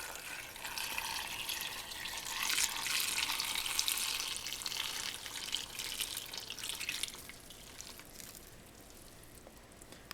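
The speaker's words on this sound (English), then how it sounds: "I want to go ahead and carefully pour in all of the syrup on top of it" Sugar syrup is poured in a steady, faint liquid stream over gulab jamun in a deep dish, a soft splashing pour that tapers off toward the end.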